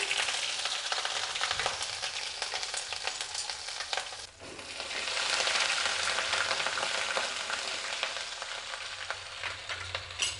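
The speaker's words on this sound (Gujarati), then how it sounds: "આદું પણ એકદમ સારી રીતે કકડી ગયું છે." Grated ginger sizzles and fries steadily in hot oil in a kadai, a loud, close, continuous crackle with a brief dip midway as it is stirred.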